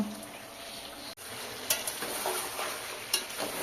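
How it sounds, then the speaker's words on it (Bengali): Chilli powder stirred into mutton frying in a pot for kacchi biryani, a steady close sizzle with occasional spoon scrapes and clinks against the pan. "কালারের জন্য লঙ্কা গুঁড়োটা দিয়ে আমি কিছুক্ষণ নাড়ব।"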